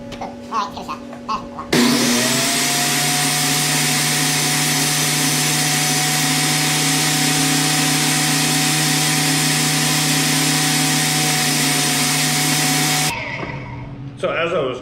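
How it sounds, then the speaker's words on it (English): A table saw cutting wood whines steadily at a constant loud pitch for about eleven seconds, starting and stopping abruptly, with brief talk before and after. "Let's try this on the table saw."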